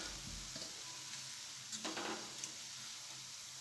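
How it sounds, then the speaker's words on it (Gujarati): Lentil dal vada fritters frying in hot oil give a steady, faint sizzle throughout, with a couple of brief scraping clinks partway through and no voices. "આ જ રીતે આપણે બધા દાળવડાને તળી લઈશું."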